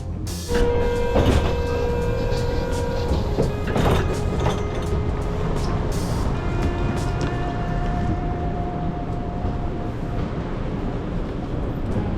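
Steady loud rumbling of a moving train in Sydney, Australia, with rattling carriages and occasional high metallic squeals throughout.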